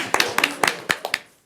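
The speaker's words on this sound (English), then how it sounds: "Can we just clap now?" A few scattered hand claps from a small group at a school district board meeting, sparse and uneven, tapering off within about a second and a half.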